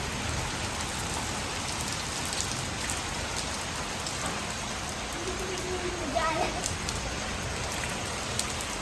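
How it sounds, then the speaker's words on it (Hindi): Heavy rain falls steadily and close by, a dense unbroken hiss of drops hitting surfaces throughout, with faint voices barely noticeable beneath it. "अच्छी बारिश है।"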